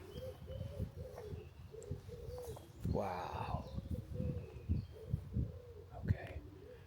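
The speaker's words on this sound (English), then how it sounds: "So you can hear the pigeons." Pigeons coo in soft repeated low calls around a square in Orléans, France, the rhythmic cooing close and clear while people talk quietly nearby.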